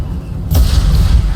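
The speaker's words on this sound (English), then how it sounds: "Still plenty of explosions." Mass Effect 2 game explosion erupting halfway in, a loud booming blast over a steady low rumble of battle noise that carries on to the end.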